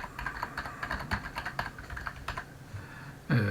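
Rapid clicking keystrokes on a computer keyboard, close and fairly steady, followed by a brief pause and a short voice at the end.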